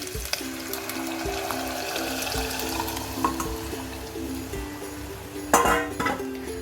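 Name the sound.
dal being sautéed in a pot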